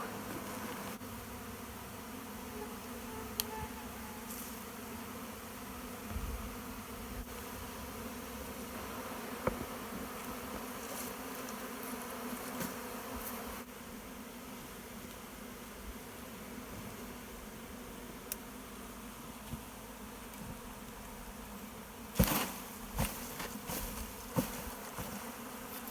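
A large number of bees buzz steadily throughout, a dense continuous hum with occasional closer passes and a brief louder burst near the end.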